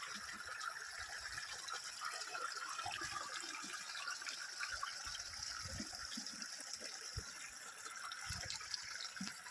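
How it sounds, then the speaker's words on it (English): Outdoor stream of flowing water, a faint steady rushing and trickling with soft splashes underneath, continuous and fairly distant, with no talk. "You can see the water stream. It's really flowing, just flowing, and you can listen the voice."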